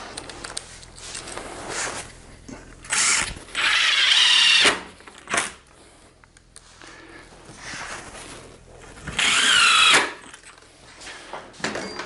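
Screws are driven from underneath into a wooden fixture block for a shop-built router lathe, with several bursts of a power driver whirring and ratcheting, separated by quieter handling pauses.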